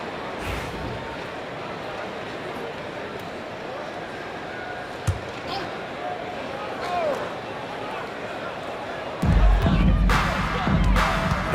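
A steady roar of crowd noise with cheering in the NBA 2K25 basketball video game fills the clip, swelling louder near the end as the arena erupts.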